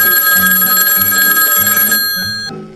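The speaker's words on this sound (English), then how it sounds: "It looks like Jason is out to test a mobile phone." A mobile phone rings with a steady, bright electronic tone during an IT equipment test, sounding loud and close for about two seconds before cutting off.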